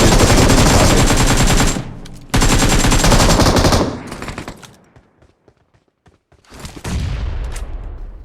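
Rapid automatic gunfire in a PUBG Mobile (BGMI) match on the Livik map, loud dense bursts for about four seconds, a near-silent gap, then another burst of shots toward the end.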